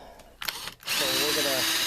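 A power drill with a long drill bit whirs loudly and steadily after a brief start, running alone at close range while drilling through material for a homemade Kydex press.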